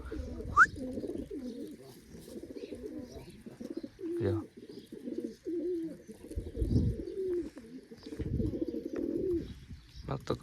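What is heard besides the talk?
pigeons cooing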